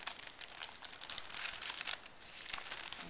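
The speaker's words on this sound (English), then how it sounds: "So we're gently folding the tissue over." Tissue paper is folded gently over an object being packed for storage, giving a steady run of soft, close crinkling and rustling throughout with no talking.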